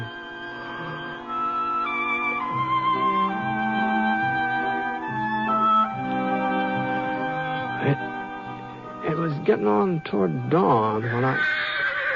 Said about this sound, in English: one of the horses down the corral was sure upset about something.